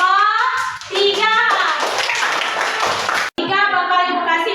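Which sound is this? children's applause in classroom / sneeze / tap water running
children's applause in classroom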